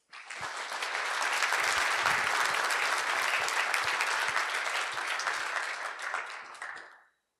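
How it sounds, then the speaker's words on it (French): An audience applauds a presenter at the close of a talk at an AI industrialisation event, dense sustained clapping that swells quickly, holds loud for several seconds, then tapers off and stops abruptly. "on peut encore une fois applaudir le présentateur."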